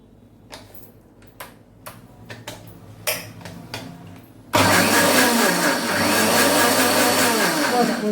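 A mixie grinder blending drumstick leaves with salt for soup: a few light taps and clicks, then the motor kicks in abruptly with a loud, steady whirring grind to the end.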